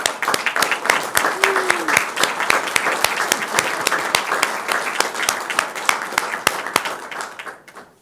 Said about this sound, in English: Round of applause for our September Team of the Month.